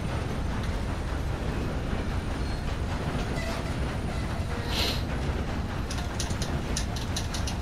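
A train rolling steadily along rails, a continuous close rumble and rushing roar with faint rhythmic clatter, plus a few brief high squeals toward the end.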